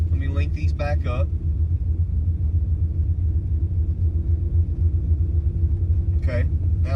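A car engine fitted with Holley EFI idles in park with the AC off, a steady low rumble throughout while someone talks over it at the start and end.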